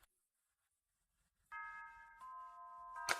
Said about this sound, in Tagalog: tumatunog na ang bell